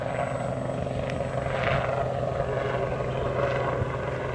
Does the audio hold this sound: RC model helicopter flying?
yes